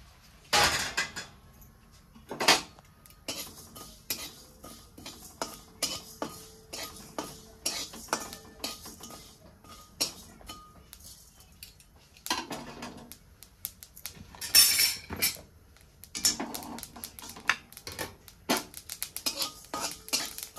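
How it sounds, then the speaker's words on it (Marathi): Spices with sesame and coriander seeds are dry-roasted in a pan for misal pav masala. A utensil scrapes and clinks against the pan in irregular bursts, with soft rattles between, and nobody talks. "तोपर्यंत आपण मसाला भाजून घेऊया। तरी सगळं मसाले मी आता यात भाजून घेते।"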